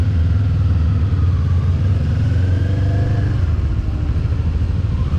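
A 2024 Kawasaki Eliminator cruiser motorcycle engine runs close and loud throughout, a steady low rumble with rising and falling revs and mechanical clatter.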